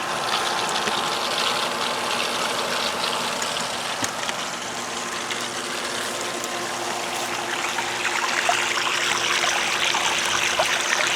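An above-ground pool pump drives an XtremePowerUS sand filter set to filtration, giving a steady motor hum under a continuous rushing, splashing flow of water returning to the pool, loud and close with no voices.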